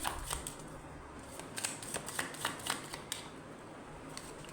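Soft, close shuffling and riffling of a tarot deck as cards are drawn out, with a steady papery swish and a few light flicks of cards, faint and unaccompanied by speech.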